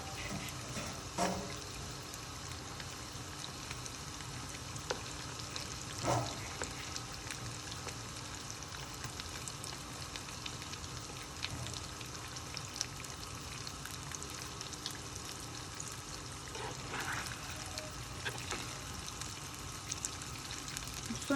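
Small bisaria fish fry in hot oil with a low, continuous hiss and bubbling crackle, steady and fairly faint, with a few soft knocks; no voices.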